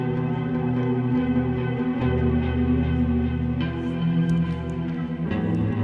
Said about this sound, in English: I love the flanger on this part too.